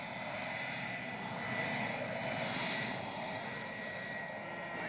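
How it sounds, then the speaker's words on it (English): A propeller airplane flies over Gambell on St. Lawrence Island, Alaska, in 1978, in bitter cold. Its engine drones steadily at a moderate distance, without speech. "these airplanes fly even when it's 40 below zero"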